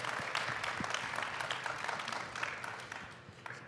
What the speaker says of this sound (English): So, a round of applause for everyone.